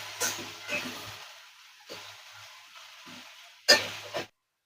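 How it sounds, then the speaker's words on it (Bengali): Potatoes and onions frying together in a pan, a soft sizzle broken by a few clattering stirs and scrapes, the last one loudest, then sudden quiet. "ভেজে নেব"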